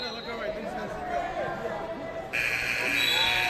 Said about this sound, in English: And there's our buzzer.